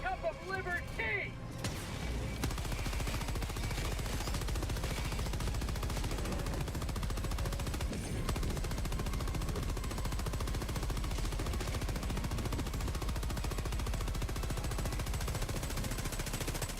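Sustained gunfire in the shooter Helldivers 2, rapid continuous automatic bursts with heavy impacts filling the scene at steady loudness, with voices speaking over the barrage.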